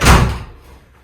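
A glass shower door in a small Italian apartment bathroom is pulled shut, giving one loud close thud up front that decays quickly into a faint room tail, with no voices.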